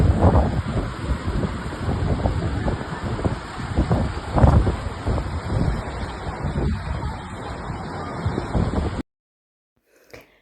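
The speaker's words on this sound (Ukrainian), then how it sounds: "Червоне море, пісок, пляж, красиві краєвиди, шум моря" Red Sea surf on a sandy beach rolls as a continuous rushing wash with swelling surges, heavily buffeted by wind on the microphone, before cutting to near silence at the end.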